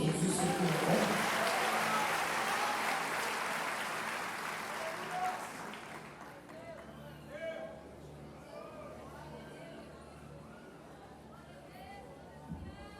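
Church congregation applauding at a sermon, a broad roar of clapping that fills the first six seconds and then fades into scattered claps and murmuring voices.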